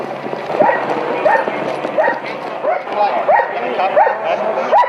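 Police dogs bark in repeated, evenly spaced bursts during a callout to a house with an alleged gunman, loud and close, with voices mixed in underneath.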